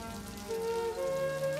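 Rain falls softly in the background of a Hindi TV drama scene, a faint steady patter beneath a sustained tonal music line, with no one speaking.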